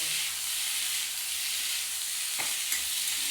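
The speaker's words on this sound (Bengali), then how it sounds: "এবার এর মধ্যে আলু পেঁয়াজ একবারে ভেজে নিচ্ছি" Parboiled potato and onion frying together in a pan, a dense, even sizzle with faint clinks of stirring.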